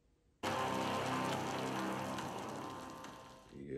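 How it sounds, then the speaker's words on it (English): Heavy rain pours in a film scene, a loud, dense, continuous hiss that starts abruptly and holds steady for several seconds before easing slightly at the end. "How he's walking out in that rain?"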